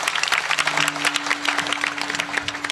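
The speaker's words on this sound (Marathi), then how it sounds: "एकदा जोरदार टाळी वाजवा दोघांकरता जोरदार एकदम" Dense, steady audience applause at a Shri Jagdamba temple saptah religious gathering. The clapping fills the whole stretch at close range over a faint sustained tone, with no talking.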